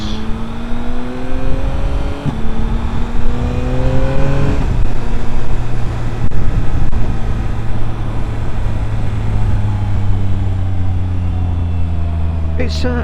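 A Yamaha MT-09 motorcycle engine drones loudly and steadily while riding, over constant wind rush, with its pitch climbing and then dropping abruptly at gear changes.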